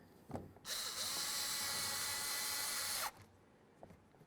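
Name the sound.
power driver screwing in screw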